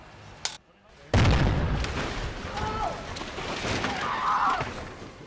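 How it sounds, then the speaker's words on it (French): A building rigged for an action film blows up prematurely on set, a sudden loud blast after a brief quiet, followed by a sustained roaring, crackling rumble of debris and fire that carries on to the end. "tout a explosé avant l'enregistrement"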